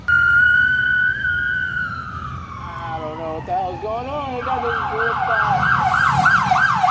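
Police car sirens from a funeral escort pass close by, a steady wail giving way to fast warbling yelps from several vehicles, loud over road noise while someone talks over them.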